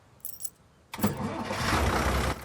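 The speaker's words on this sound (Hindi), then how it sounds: "गाड़ी स्टार्ट कर चल।" A car engine is started: a faint jangle of keys comes first, then the starter catches and the engine roars up and settles into a steady idle close by.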